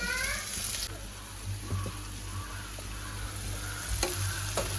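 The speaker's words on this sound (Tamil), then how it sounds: "இந்த பக்கம் பார்த்தீங்கன்னா சிக்கனுக்கு வெங்காயம் வதங்கிட்டு இருக்கு" Onions sautéing in a pan for chicken curry give a steady, close sizzle and frying hiss with occasional stirring scrapes, running continuously throughout with faint background voices.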